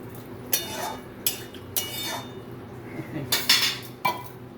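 A cooking pot is covered with its lid while a Bengali mixed-vegetable chochori simmers, giving a run of close metallic clanks and clinks at uneven intervals over a low hum.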